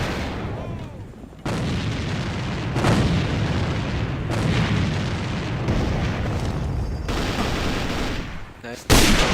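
A grenade explodes and guns fire in the shooter game A.V.A, heavy booming blasts and dense gunfire rolling on throughout at loud, close range, with a sudden sharp burst near the end.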